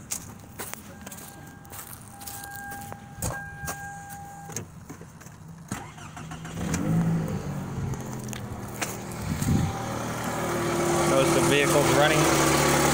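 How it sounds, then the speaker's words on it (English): A vehicle engine cranks and starts after the battery cable is reconnected, then settles into a steady idle that rises in level toward the end; some clicks and handling noises come first, and a person talks faintly over it. "So I'm going to reconnect the cable. Come start the vehicle."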